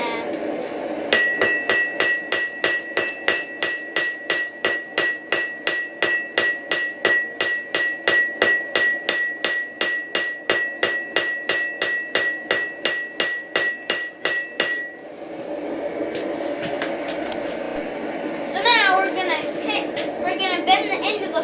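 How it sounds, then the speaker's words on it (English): A power hammer forging a hot steel hook pounds in a fast, steady run of about forty sharp metallic blows for roughly fourteen seconds, loud and close, then stops, leaving workshop noise and brief talk. "It's power hammer time."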